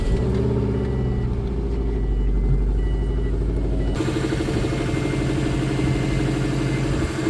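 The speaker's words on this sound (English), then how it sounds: "So as you can see, it runs well. It's a cold start." A Subaru EJ206 boxer engine idles steadily after a cold start, continuously up close, a low rumbling hum with no voices, its tone shifting slightly partway through.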